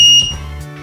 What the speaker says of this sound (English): Anti-tamper alarm output.